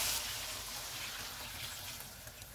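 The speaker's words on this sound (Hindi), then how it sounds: "अब इसमें हम 5 गिलास पानी डालेंगे" Water pours into minced meat frying in a pot for keema pulao, a faint, continuous gushing splash that holds evenly for a couple of seconds.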